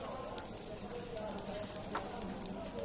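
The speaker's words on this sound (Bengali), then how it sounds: "তো তেল দিয়ে দিল, আর দিতে হবে না" Oil hisses and sizzles softly in a pan heating up for frying kebabs, a steady faint crackle with occasional small pops, close and without talk.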